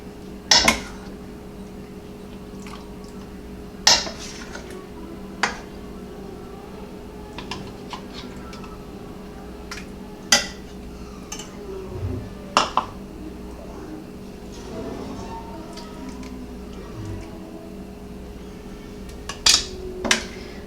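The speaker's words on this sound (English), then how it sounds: "A little awkward to get the meat in your jars because of the large chunks" Chunks of BBQ pulled pork being packed into glass canning jars, with scattered clinks and taps of glass and utensils over a quiet steady hum in a kitchen.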